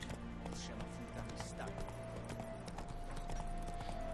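Horse hooves clip-clopping at a slow riding pace in The Witcher 3: Wild Hunt video game, steady rhythmic clops running under someone talking throughout.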